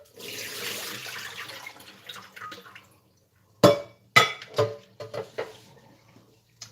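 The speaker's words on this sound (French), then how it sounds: "Je les ai passés à l'eau froide." Scampi rinsed under a running cold tap, water hissing steadily into a sink, then cutting off, followed by close wet handling clatters and knocks of the shellfish and dishes.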